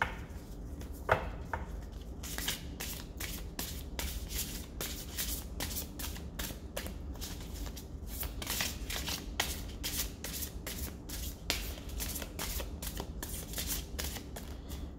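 A deck of cards being shuffled close by, a steady run of crisp riffling bursts and ruffles lasting throughout with no pauses, and no voices.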